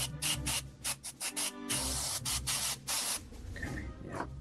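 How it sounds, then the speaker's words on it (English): Airbrush spraying matte white primer onto a custom action figure, a series of hissing bursts of varying length, close and fairly loud, with no talking. "We use matte white primer for this stuff at the moment. And I'll get my airbrush."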